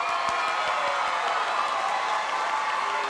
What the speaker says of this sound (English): we're going to give them our best applause for all that they've accomplished